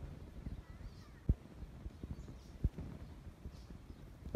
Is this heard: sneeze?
no